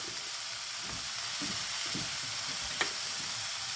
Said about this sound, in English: the onions are starting to cook